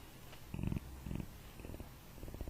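A person imitates a cat's purr with their mouth in short rumbling bursts, about four, separated by brief pauses.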